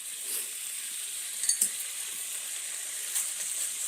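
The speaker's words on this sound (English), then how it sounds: "The bacon will take a few minutes to cook." Bacon sizzling in a pan beside eggs, a faint steady hiss with a couple of small clinks partway through and no talk.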